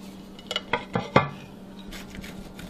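Knife cutting through a warm, egg-rich Japanese pie in a dish, a few close taps and clinks of the blade against the plate, then quiet scraping.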